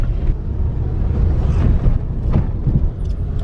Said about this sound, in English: We are attempting a full U-turn in the middle of traffic.